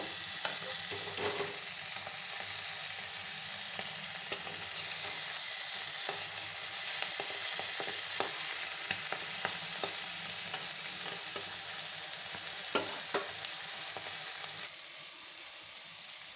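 Shrimp sizzle and crackle in hot oil, a soft continuous frying hiss broken by occasional sharp pops and stirring taps.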